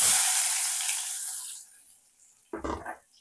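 Finely chopped onions dropped into hot oil with popped mustard seeds and cumin, giving a loud close sizzling hiss that fades away over a second and a half, then a short burst of sizzle near the end.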